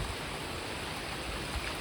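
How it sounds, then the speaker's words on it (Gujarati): Floodwater after heavy rain rushes across farm fields in a steady, dense broadband wash, unbroken and moderately loud throughout, with no voices. "આમ ખેતરોમાં પાણી પાણી આવી ગયું"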